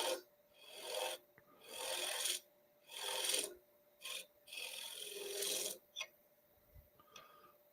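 A curved scraper cuts into wood spinning on a lathe in bursts of dry, raspy scraping, about six passes separated by short pauses, close and fairly loud under a faint steady motor hum.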